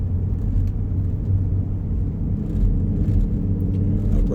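A car drives steadily along a road through Chiricahua National Monument, its engine rumble and road noise loud and continuous throughout, rising slightly partway through, with no talking.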